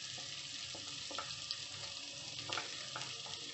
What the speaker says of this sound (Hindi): ये इसमें मैं डाल दूँगी 2 प्याज और इसको हल्का सा सौते कर देंगे